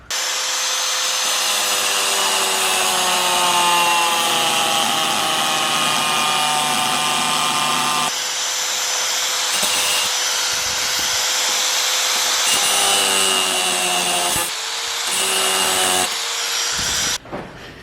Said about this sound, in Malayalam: ആദ്യം നമുക്ക് ഈ ബോൾട്ടിൻ്റെ ഈ ഭാഗത്തുള്ള ഈ തടിച്ച സ്ഥലം ഒന്ന് കട്ട് ചെയ്തെടുക്കണം